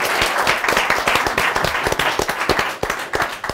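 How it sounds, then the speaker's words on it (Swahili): An audience breaks into dense, sustained applause, many hands clapping loudly and continuously for a few seconds with no speech over it. "Wapi makofi yao mazee?"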